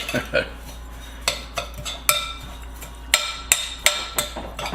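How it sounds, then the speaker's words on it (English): Salmon pieces being mixed and coated in a bowl, with a utensil clinking sharply against the dish about a dozen times in an uneven rhythm, close and fairly loud, with no talking. "mix this up. Get that all coated and blend it."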